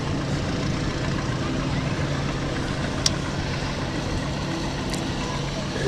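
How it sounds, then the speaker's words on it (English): A Ford tractor engine idles in an outdoor parade, a steady low rumble running continuously with faint background noise and no clear talk. "Ford tractor."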